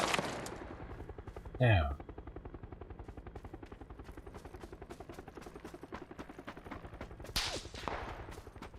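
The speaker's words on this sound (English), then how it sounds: "I'm getting shot from everywhere right now" Gunfire in the video game PUBG rattles in rapid, sustained bursts throughout, loud and dense, with a brief exclamation from a player over it.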